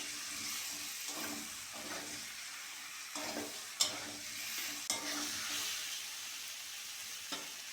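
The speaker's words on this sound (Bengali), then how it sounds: "আলুটা দিয়ে হালকা করে নেড়ে চেড়ে নিয়েছি" Boiled potatoes are stirred into a fried masala for a dhaba-style egg curry, giving a soft, steady sizzle with occasional scraping knocks of the spoon, quiet and close, without any voices.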